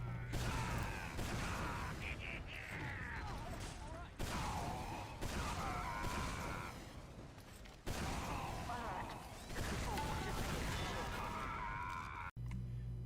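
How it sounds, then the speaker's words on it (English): Rocket jumping chained into a fast rollout in a Source engine shooter, heard as repeated blasts and clattering bursts in quick succession, separated by brief gaps over a constant busy mechanical din. "A rollout is the chaining of multiple rocket jumping techniques to quickly reach the enemy team's spawn"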